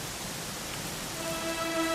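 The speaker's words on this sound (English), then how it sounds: "You know, it was raining like this the last time I ever saw her." Steady rain patters down in a Dragon Quest XI game scene, a continuous hiss of falling drops with a soft tonal music note entering toward the end.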